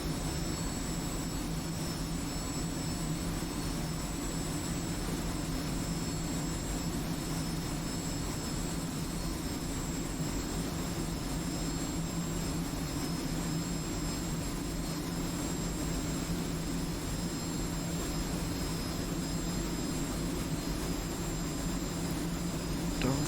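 A steady, faint jet whine from an F-86F Sabre gliding with the throttle closed in a flight video game, a continuous even hum with no other sounds.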